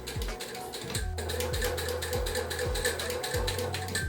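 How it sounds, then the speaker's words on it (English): A sewing machine stitches through cream white corduroy for a pinafore dress, giving a close, steady mechanical whir with rhythmic clicking pulses repeating roughly every half second, with no talking. "turn everything under the sewing machine"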